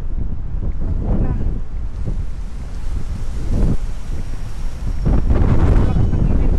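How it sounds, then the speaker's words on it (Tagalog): Strong wind buffets the microphone with loud, continuous low rumbling gusts that swell and ease, outdoors in hot weather. "Sobrang lakas ng hangin guys."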